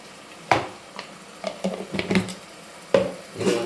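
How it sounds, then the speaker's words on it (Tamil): Garlic and ginger-garlic paste sautéed in a pan, heard mostly as a spoon scraping and clinking against the pan in irregular knocks over a faint background, with no talking. "பூண்டு, இஞ்சி பூண்டு பேஸ்ட்டு வாசம் வெளியில் போகிற அளவுக்கு வதக்கணும்."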